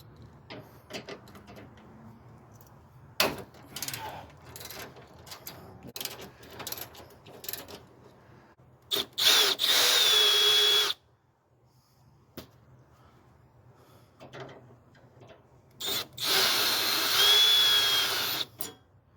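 A power tool removes the inner fender bolts on a Hyundai Santa Fe. Two loud whirring bursts of a second or two each come after a stretch of scattered clicks and clanks of handling parts.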